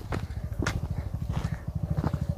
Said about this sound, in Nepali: त्यही भएर हामी हिँड्दै जान आँटेको